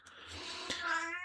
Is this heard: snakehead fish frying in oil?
no